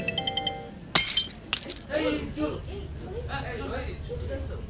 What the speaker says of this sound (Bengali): তার হাত থেকে কফির কাপ মাটিতে পড়ে ভেঙে যায়।